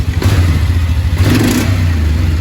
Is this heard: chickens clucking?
no